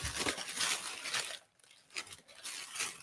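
Crinkly paper and plastic packaging rustles and tears close by as a fragrance box is unboxed, with a busy run of crackling handling, a brief pause midway, then more crumpling.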